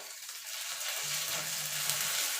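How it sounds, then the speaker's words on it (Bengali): Ginger garlic paste frying with onion in a pan, a soft continuous sizzling hiss at low volume, with a faint low hum joining partway through and no talking. "আদা রসুনটা একটুখানি হালকা করে ভেজে নেব।"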